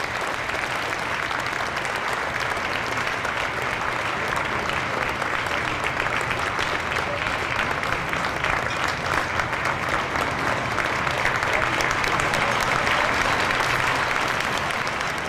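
Sustained audience applause fills a fundraising dinner hall, a dense, even clapping that holds steady at moderate loudness for the whole stretch without talk.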